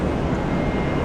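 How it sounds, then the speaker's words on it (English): An Alliance Airlines Fokker 70 jet roars at Brisbane International Airport in stormy weather, a loud, continuous broadband engine rush held steady through the short moment, with no voices. "There's Fokker 70. Sir Fokker, Alliance Airlines."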